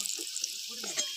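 Potatoes frying in oil in a home kitchen, a steady soft sizzle with faint scraping and low murmurs underneath, brief and fairly quiet throughout.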